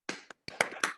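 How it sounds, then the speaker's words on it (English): A few scattered claps from online lecture participants, sharp isolated hand strikes in an irregular sparse rhythm, close and brief. "have a round of applause for Eva"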